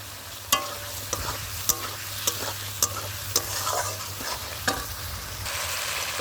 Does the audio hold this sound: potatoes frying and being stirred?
yes